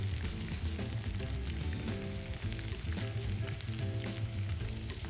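Chicken pieces for a stir fry sizzle and crackle steadily in a frying pan, a close, continuous hiss with bursts of popping.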